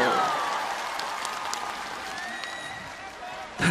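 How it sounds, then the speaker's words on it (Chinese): Audience applause at a Mother's Day concert in Taipei Arena rolls on as a soft, diffuse patter, with faint high screams streaking over it and a brief louder burst at the end. "你知道歌手最想要的就是掌声加尖叫声，可以全场来一点吗？"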